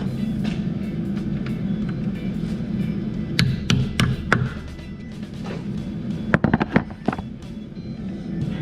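A wheel balance weight is hammered onto the tire rim of a 2013 Dodge Challenger during a tire install and balance: several sharp metallic taps in irregular clusters, close and loud over a constant shop machine hum.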